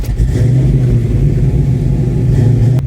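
A Fox Body Mustang with Flowmaster 50 Series mufflers idles steadily, heard from inside the cabin with the windows up as a loud, constant low rumble.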